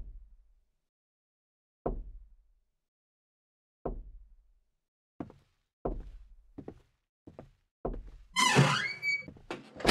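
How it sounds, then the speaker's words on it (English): Knocking in a scary video game: a series of hollow thuds spaced roughly a second or two apart, growing closer together toward the end, where a louder, brighter clatter and creak join in, otherwise surrounded by silence. "What is that knocking sound?"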